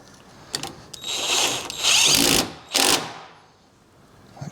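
Metal studs from a 1974 Harley-Davidson Superglide Shovelhead FXE inner primary are jammed together in a vise, giving close, loud bursts of grinding, whirring mechanical noise with pauses between them.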